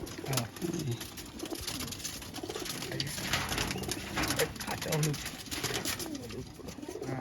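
Pigeons coo at a tournament winner's home loft in Barasat, soft repeated calls under a nearby voice and background chatter.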